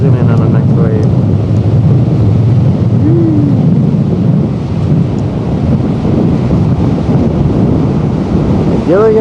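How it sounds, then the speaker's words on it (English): Steady roar of surf breaking on a coral beach, heavy and continuous with wind buffeting the microphone; voices murmur faintly in the background at moments. "watching the waves crash in"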